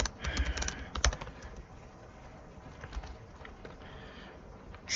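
Keys tapped on a computer keyboard while typing a command, a quick burst of clicks early then sparser scattered keystrokes, fairly close and quiet.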